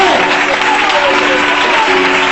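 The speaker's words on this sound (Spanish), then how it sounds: "¡Fuerte ese aplauso! ¡Fuerte!" A church congregation claps loudly and steadily throughout, a dense continuous wash of applause with sustained tonal music or voices underneath.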